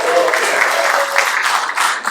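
Comedy club audience bursting into applause, a dense, fairly loud clatter of many hands clapping at once, with a few voices calling out beneath it.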